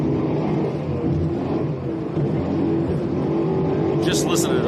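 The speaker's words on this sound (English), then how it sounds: "Just listen to those boats, kid." Offshore racing powerboats of the IHRA series thunder past off Cocoa Beach, a loud, steady roaring engine drone that holds for several seconds.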